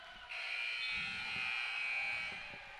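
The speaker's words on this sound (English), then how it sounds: "And there's the buzzer." A shrill end-of-game buzzer sounds at a high-school girls' basketball tournament semifinal, one sustained loud blare lasting about two seconds over faint crowd noise.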